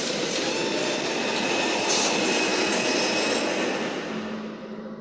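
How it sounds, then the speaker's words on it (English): A train ride in the puzzle game The Room Three: steady rumbling rail noise with a broad hiss, continuous and fairly loud, easing off slightly at the end. "Well, that was a short train ride."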